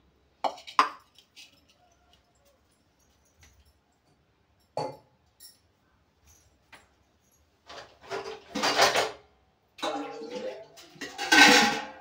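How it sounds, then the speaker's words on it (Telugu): Water is poured into a pot for coconut rice in a few splashy bursts toward the end, after scattered clinks and soft handling noises close by. "ఇప్పుడు మనం దీనికి మిగతా వాటర్ యాడ్ చేస్తాం"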